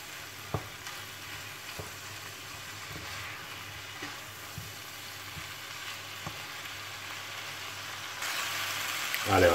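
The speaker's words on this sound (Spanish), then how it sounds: "Ahora vamos a dejar que salga un poco el tomate." Tomato fries in a pan for a rice dish with Iberian pork secreto and vegetables, giving a steady, close sizzle broken by occasional light taps of a utensil. The sizzle grows louder at the very end.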